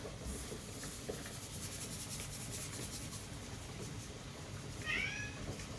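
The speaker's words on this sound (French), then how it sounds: "tu peux miauler, y a pas de soucis, t'es puni" A cat meows once, a short clear cry near the end, heard over steady kitchen background noise during home cooking as chicken is being seasoned.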